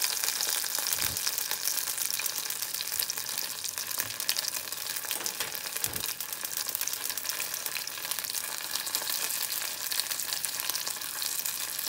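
Vegetables for tempura fry in hot oil, with a steady, loud, close crackling sizzle that runs throughout. A few soft knocks rise above it, and no one speaks.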